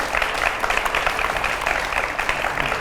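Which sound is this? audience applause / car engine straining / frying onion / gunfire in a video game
audience applause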